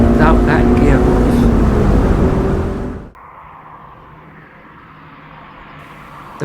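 Honda S2000 sports car engine on the road, a loud steady drone with a rising tone that drops off abruptly midway, leaving quieter road and cabin noise.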